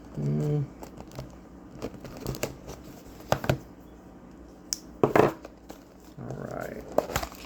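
A sealed plastic packet of Paqui One Chip being torn open, with scattered crinkles and sharp crackling bursts of handled plastic, close and fairly loud, separated by quieter pauses.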